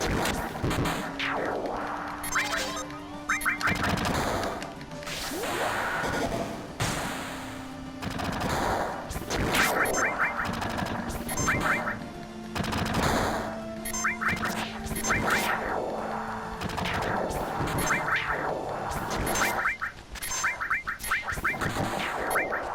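Barret's gun arm fires in Final Fantasy VII, rapid bursts of mechanical gunfire repeating in rhythmic volleys over battle music and effects for a long stretch, loud and close.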